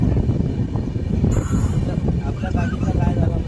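A Konkan Railway passenger train on the Ratnagiri–Diva run pulls into Indapur station with a steady, close rumble of rolling wagons, a brief hiss partway through, and faint voices of passengers in the background.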